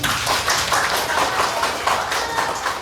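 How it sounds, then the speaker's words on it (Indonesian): Small group hand clapping at a teacher certification presentation, a brief, moderately loud burst of uneven claps with no talking over it. "Tepuk tangan dulu."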